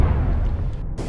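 A heavy in-game explosion in APB Reloaded, a deep, loud rumbling boom that fills the low end and rolls on for about a second, with a brief bright crackle at the very end.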